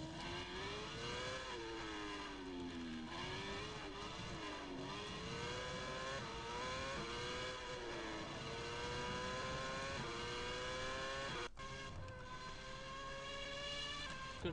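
A Ferrari Formula 1 race car engine in the rFactor F1 2010 racing game screams continuously at high revs, rising and falling through gear changes with one sharp shift break, loud and alone without talk.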